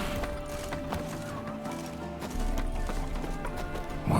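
Roach the horse gallops in The Witcher 3, a steady clip-clop of hooves running under a dense game music and ambience bed, staying fairly constant and rising slightly toward the end.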